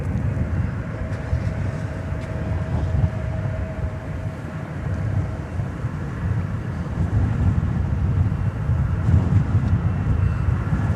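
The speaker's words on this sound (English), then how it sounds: "I do see American Flight 78, which is a 777, which will be going to London Heathrow." An American Airlines Boeing 777 at Dallas Fort Worth airport at night produces a continuous low engine rumble and roar, fairly loud and steady, building a little toward the end without any talk.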